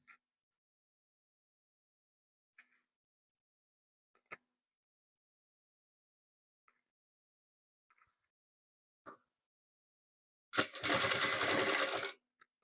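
Sewing machine joining patchwork rows for a star-pattern quilt: a few faint clicks and taps, then one loud burst of close, rapid stitching lasting about a second and a half.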